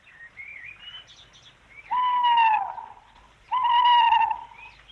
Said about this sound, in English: Bird of night, hoot not. Feathered omen, hoot not.